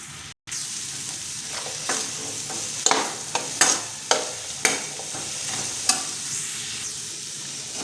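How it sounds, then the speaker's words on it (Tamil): Chopped beetroot stir-frying in hot oil, a steady sizzle broken by a series of scraping stirs and clatters of the spoon in the pan, close and clear with no talking. "லேசாக எண்ணெயில் வதங்கினதும் நறுக்கின பீட்ரூட்"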